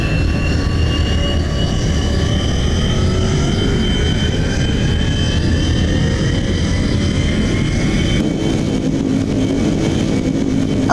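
A modded ME262 fighter jet's boosters roar continuously in BeamNG.drive, a loud, sustained engine howl with rising whine tones that shifts abruptly near the end.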